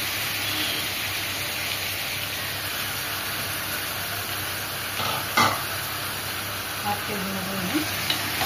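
Mutton pieces frying with ginger garlic paste for biryani give a steady low sizzle and hiss, broken by a sharp clatter of meat hitting the pan midway and a few stirring knocks near the end, a voice talking in the background.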